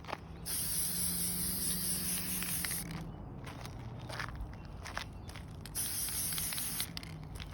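Two long bursts of spray paint hissing loudly and close from an aerosol can onto a frame, separated by a pause filled with footsteps and light shuffling.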